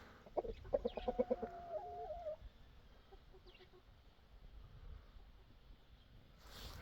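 A chicken clucks in a short burst of close, rhythmic clucks, then quieter scattered clucks over a low background hum.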